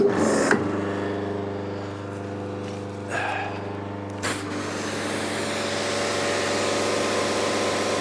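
Pressure washer motor and pump humming steadily nearby with a strong tonal drone, broken by a few brief hissing bursts as water flow changes, then a broad rushing spray noise.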